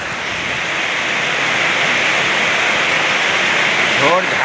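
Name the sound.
heavy rain with wind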